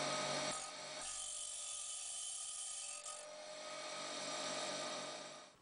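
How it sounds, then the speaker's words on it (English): A Ryobi rotary tool with a cutoff disc grinds through a high carbon steel hex key, a steady high-pitched whine and rasp that holds for several seconds, fairly faint and close, with small dips in pitch. "Grinding the angled section off using my Ryobi Dremel with a cutoff disc."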